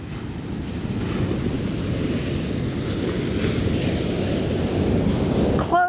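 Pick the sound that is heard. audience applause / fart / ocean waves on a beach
ocean waves on a beach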